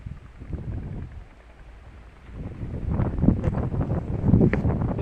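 Strong wind gusting across an open farm field by a tubewell, buffeting the microphone in heavy rumbling bursts that ease off, then surge louder toward the end.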